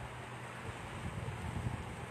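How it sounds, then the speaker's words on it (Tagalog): Strong wind buffets the microphone on Bella Roca Island, once called Elephant Island, in Buena Vista, Marinduque, a steady dense roar with low gusty rumbles throughout and no voices. "lakas ng hangin, oh."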